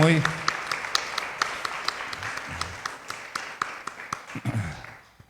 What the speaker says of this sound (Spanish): Vamos a dar un aplauso a las mujeres